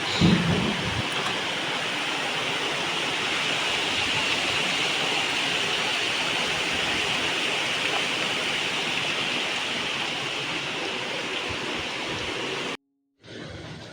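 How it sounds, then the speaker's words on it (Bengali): Heavy rain pours down in a loud, dense, unbroken hiss for most of the stretch, then briefly cuts to silence before resuming near the end. "জোরে ঝমঝম করে বৃষ্টি চলে এসেছে"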